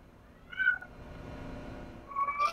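A house cat meows in the background while a video game is played, with one short meow early on and a drawn-out pair of cries near the end, fairly faint over a low steady hum.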